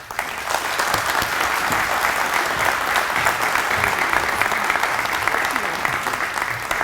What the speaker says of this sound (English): Please, a round of applause for Hoskins in the Flat.